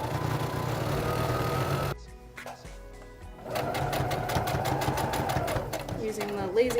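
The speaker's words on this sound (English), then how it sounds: "Using the lazy method of just feeding in the hem as I go, using the foot as a guide" Sewing machine stitching a hem into stretchy skirt fabric for a maid dress costume, running steadily and close up, pausing for about two seconds, then resuming with a fast continuous hum that speeds and slows.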